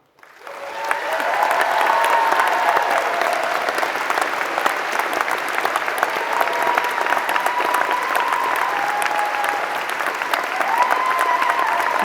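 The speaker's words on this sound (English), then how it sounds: "That's the best applause I've ever had" Loud applause from a large crowd at a university graduation ceremony, rising quickly from silence into a full, sustained roar of clapping that holds steady for over ten seconds, with faint cheering mixed in.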